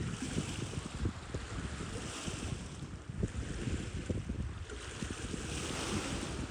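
Water and wind on the River Humber at Hawkin's Point as the tide comes in, a steady wash of surf with choppy, irregular lapping and constant gusts buffeting the microphone outdoors, with no voices.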